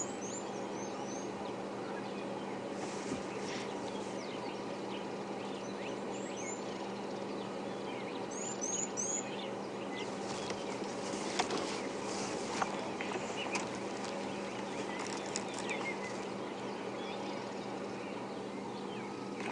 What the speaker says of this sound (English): you might also be able to hear a very high-pitched little blue waxbills